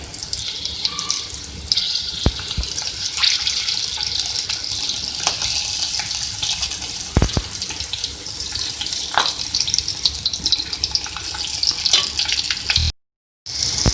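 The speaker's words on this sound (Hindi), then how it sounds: "मिर्चों को हमने भर लिया है मसाले में और मैं इनको फ्राई कर लूँगी।" Masala-stuffed green chillies for achari mirch frying in a pan give a steady bright sizzle with scattered crackles and pops, continuous and unaccompanied by talk, cut off by a brief silence near the end.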